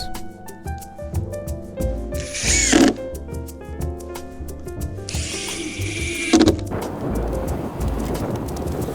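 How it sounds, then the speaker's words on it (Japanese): A power driver sinks screws into soggy plywood in two long whirring bursts that end with a rising grind as each screw seats, surrounded by rapid clicks and knocks from handling the wood. "これちょっとグズグズになってしまったベニヤなんで、 いつもより多くビスを 打たせていただいております"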